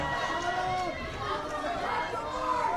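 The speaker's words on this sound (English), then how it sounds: "This crowd is not going to let him get a word in" A wrestling crowd chatters and jeers in a dense, continuous babble of many voices, with individual shouts rising out of the hubbub over a steady mid-level roar.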